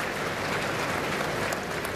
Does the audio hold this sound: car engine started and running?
no